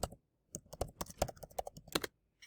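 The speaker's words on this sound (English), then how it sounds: "This is where I would type my reflection" Quick bursts of keystrokes on a computer keyboard, close and crisp, with irregular clicking rhythm, a short pause in the middle and a last few taps after a gap.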